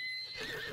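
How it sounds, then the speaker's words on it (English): A horse whinnies in Zelda: Breath of the Wild, a brief, clear high-pitched neigh with a faint clip-clop of hooves, alone and fairly quiet. "The horse just killed me."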